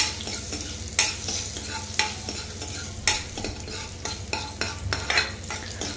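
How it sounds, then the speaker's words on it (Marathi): Garlic cloves and halved green chilli sauté in hot oil under a steady sizzle, with repeated sharp spatula scrapes and taps roughly once a second, close up and without speech. "मिरची आणि लसूण छान तेलात परतवून घ्यायचं आहे आपल्याला।"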